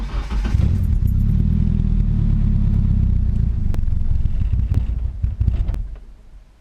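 Nissan KA24DE engine idling with a low rumbling clatter close by, then sputtering and dying out as it stalls with the fuel pump fuse pulled, a few irregular knocks near the end.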